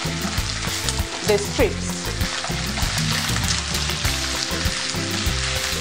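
Shredded beef strips fry in hot oil over high heat, a loud, dense, continuous sizzle with bursts of stirring and scraping from a spoon; a voice speaks briefly near the start.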